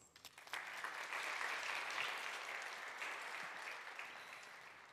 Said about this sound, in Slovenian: ji zaželimo še en velik aplavz